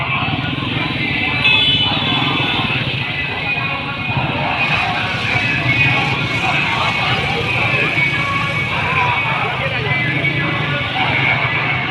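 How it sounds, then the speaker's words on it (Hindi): Motorcycle moving slowly alongside a crowded religious procession in Renala Khurd, Okara, a steady engine buzz blended with crowd hubbub and nearby voices. "मोटरसाइकिल लोंदी पई है ना"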